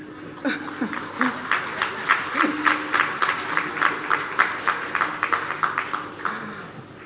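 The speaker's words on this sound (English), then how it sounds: "Mr. President, that applause sounds" An audience at a Ministry of Education and Youth event claps in a steady, rhythmic pattern, the beats evenly spaced and fairly close, with a few low voices mingling underneath.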